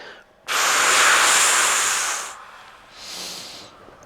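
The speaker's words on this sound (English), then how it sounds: "if you need to, do that double sniff" A breathy double sniff inhale during a Pilates mat class: a loud sharp nasal intake followed by a shorter, softer second sniff, close to the microphone with no talking.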